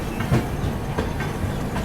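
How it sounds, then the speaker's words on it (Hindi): The Chennai Duronto Express pulls out of Jhansi railway station, its wheels giving a steady clickety-clack over the rail joints, close and continuous with no voices. "अभी अपनी दुरंतो एक्सप्रेस निकल रही है वीरांगना लक्ष्मी झांसी रेलवे स्टेशन से"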